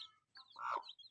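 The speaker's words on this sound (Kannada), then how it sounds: "ತಾವಿಲ್ಲಿ ಗಮನಿಸೋದಾದರೆ ಕೋಳಿ ಕೂತಿದೆ ನೋಡಿ" A hen sitting in a coop with her young chicks gives a brief, faint cluck or two, quiet and close, with no talking.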